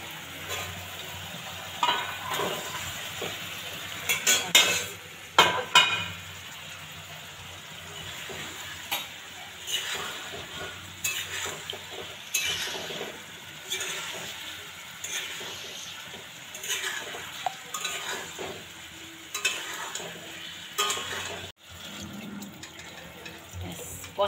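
Eggs fry and get stirred through a thick masala curry, with steady sizzling and intermittent scraping of a spatula against the pan, moderately close and fairly loud, occasional clatter, no talking.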